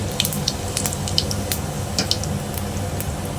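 Cumin seeds and a bay leaf sizzling in hot oil for a Bengali eggplant bharta, a steady close crackling hiss with scattered sharp pops throughout.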